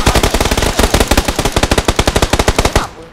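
Automatic weapon fire in a shooter video game, a rapid, loud, evenly spaced burst of around thirty shots lasting about three seconds before stopping.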